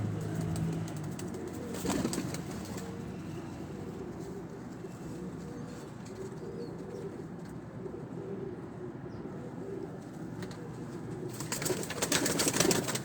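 Pigeons cooing softly in a loft, with low, repeated coos running steadily under a continuous ambient hum and a brief rustle near the end.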